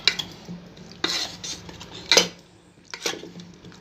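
Cooked ragda peas are mashed smooth in a pot, giving intermittent scraping and clinking of a utensil against metal in a few separate bursts, with soft squelches between them, no voices.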